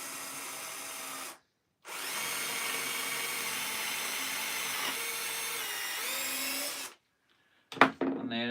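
Power drill driving 70mm screws into a solid brick wall: a steady whining run of about five seconds after a short burst and a pause, the pitch dipping near the end, followed by a brief clatter.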